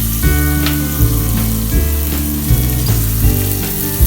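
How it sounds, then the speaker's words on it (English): Onions fry in a pan with a steady, close sizzle, while a regular low tone, like a droning hum, pulses underneath throughout. "So I think onions are showing nice color."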